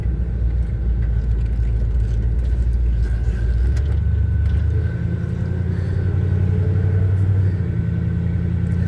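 A 1978 Chevy C10 pickup truck's engine rumbles steadily from inside the cab while driving through a neighborhood, a deep continuous low drone with a slight shift in pitch partway through, no talking.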